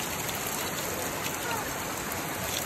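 Natural waterfall on Ticao Island, Masbate, a loud, steady broadband rush of falling water filling the whole moment without pause.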